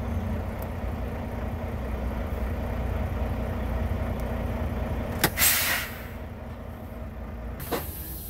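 A semi truck in gear pulls away from beneath a high-hooked trailer after its fifth-wheel jaws release the kingpin: a steady diesel engine rumble, a sharp hiss or air-brake burst midway, then another brief click near the end.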